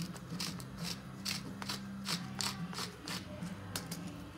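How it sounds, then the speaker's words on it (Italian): Pepper mill cracking black pepper into a cacio e pepe sauce with pecorino romano, a close, steady run of rhythmic ratcheting crunches with no voices. "poi aggiungiamo un po' di pepe nero"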